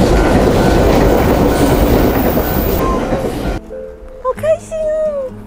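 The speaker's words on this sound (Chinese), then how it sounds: "我们刚很幸运有一台普悠玛经过" A Puyuma express train rushes loudly past a rural level crossing in Chishang, Taitung, with a dense roar of wheels and rail clatter. The passing noise stops abruptly, and excited voices talk and shout afterward.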